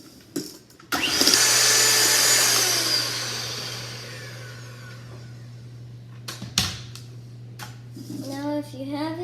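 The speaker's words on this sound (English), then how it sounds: "Let's mix some more." An electric mixer whips aquafaba for meringues, a loud steady whirring that runs for several seconds and then fades down, with brief knocks before and after and a voice speaking near the end.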